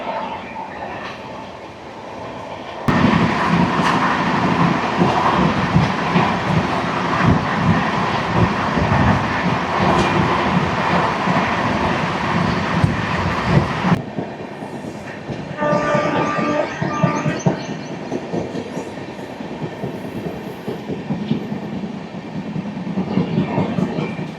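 Steel Express passenger train running on rails between Tatanagar and Howrah: a loud, steady rumble and rattle of wheels on track fills most of the stretch, easing into lighter, uneven clatter near the end, with no talking.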